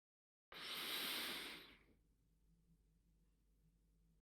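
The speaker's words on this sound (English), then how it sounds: "Take a deep breath in" A single slow, deep inhalation close to the microphone during a guided mindfulness exercise, a soft airy rush lasting over a second that fades into a quiet room hum.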